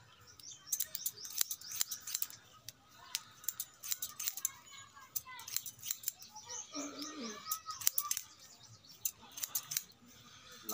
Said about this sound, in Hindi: अब ऊपर के बाल काटने वाला हूँ, ठीक है? ऊपर के थोड़े थोड़े काट देते हैं